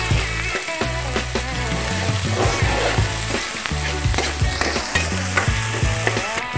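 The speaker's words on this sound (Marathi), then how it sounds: "आता मी यामध्ये 1 चम्मच आलं लसूण पेस्ट सुद्धा टाकून घेत आहे आणि चांगल्या प्रकारे मिक्स करून घेणार आहे।" Ginger garlic paste sizzling loudly in a hot pan, with steady frying crackle, repeated scraping and clanking as it is stirred and mixed, and no talk over it.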